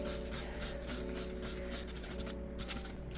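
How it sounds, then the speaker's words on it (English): A Lysol bathroom cleaner spray bottle is squeezed repeatedly in a shower, giving a run of short, quiet, rhythmic spritzes that speed up toward the end. "I'm grateful that it can spray far away"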